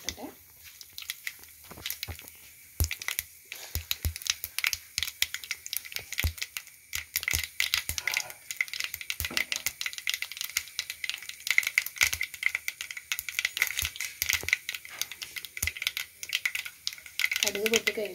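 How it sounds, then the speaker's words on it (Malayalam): Mustard seeds pop in hot coconut oil in a pan, a close, dense run of sharp, irregular crackles and spits that keeps going steadily throughout. "കടുക് പൊട്ടട്ടെ."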